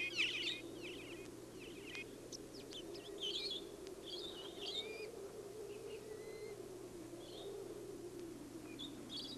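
Skua birds call in Antarctica with scattered high, thin chirps and squeaky cries, fairly faint and distant, over a steady low background rumble and no talking.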